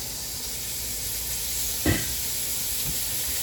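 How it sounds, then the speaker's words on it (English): Steady hissing sizzle of beef frying in a hot pan, close up, with one brief louder pop partway through. "Got a nice sizzle coming on here."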